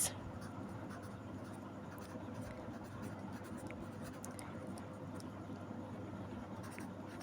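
Pen or marker scratching steadily across a writing surface while working a Class 10 maths ratio problem, a continuous soft scraping texture with faint intermittent strokes over low room hum, no voice.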